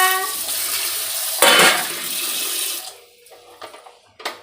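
Running water during cooking of masala roti in a home kitchen, a loud splashing gush that swells then tapers off, followed by a few soft clinks of utensils.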